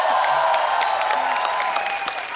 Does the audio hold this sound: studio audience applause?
yes